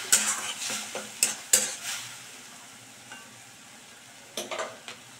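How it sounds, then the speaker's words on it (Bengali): Cabbage sauce gets stirred in a pan, with a spoon scraping and clinking against the metal in short, uneven bursts over a faint sizzle, close and fairly quiet with pauses between strokes. "দিয়ে আবার আমি মিশিয়ে দিচ্ছি"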